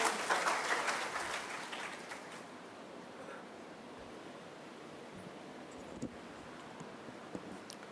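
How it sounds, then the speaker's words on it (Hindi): Audience at a spiritual retreat welcome session claps to greet a speaker, a loud burst of applause that fades over a few seconds into quiet with a few stray claps. "आदरणीय सुरेंद्र भाई जी के लिए बहुत जोरदार तालियों के साथ स्वागत करेंगे।"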